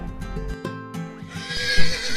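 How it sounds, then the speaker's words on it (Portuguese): A horse neighs in a loud, close whinny that rises and quavers toward the end, with a few hoof clops and thumps before it. "Cavalo, horse."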